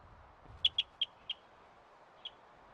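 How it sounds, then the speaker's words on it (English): A small bird chirps five times, a quick run of four sharp, high tweets followed by a softer, more distant-sounding fifth after a pause, over faint background hum. "Check out this bird."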